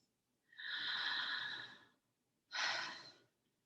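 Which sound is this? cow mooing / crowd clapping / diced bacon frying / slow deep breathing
slow deep breathing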